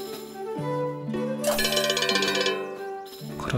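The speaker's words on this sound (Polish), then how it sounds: "Krowi dzwonek." A cowbell item picked up in the South Park video game The Stick of Truth gives a bright musical jingle of rising tones with a shimmering ringing burst in the middle. It stands alone, clear and fairly loud, with no talking.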